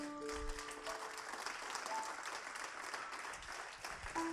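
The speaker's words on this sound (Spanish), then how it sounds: "Dale un aplauso al Señor." Church congregation applauding in a steady, dense patter of many hands, moderately distant and sustained throughout, with a faint tonal musical hum underneath at the start and end.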